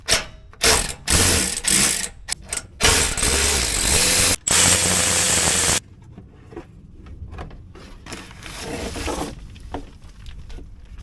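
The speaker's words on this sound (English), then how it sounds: "we're just going to go ahead and pull all of those screws out until we get the shroud down" A ratchet clicks rapidly and loudly in bursts while backing out 12 mm screws from the shroud under a 2019 Nissan Titan, then fainter fiddling and handling noises follow after the clicking stops.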